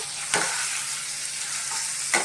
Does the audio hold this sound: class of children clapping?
no